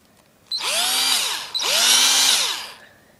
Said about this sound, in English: Here, I'll show you the drill, everyone.